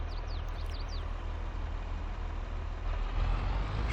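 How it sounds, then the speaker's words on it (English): A car approaches along a rural back road in Farming Simulator 22, a steady engine rumble and road hiss that grows louder toward the end under a constant ambient wash. "Car coming this way."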